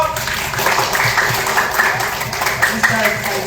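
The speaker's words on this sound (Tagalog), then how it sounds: "Palakpak!" A class at a mall dance or fitness session claps on cue, sounding as a dense, close burst of applause mixed with talk and background voices.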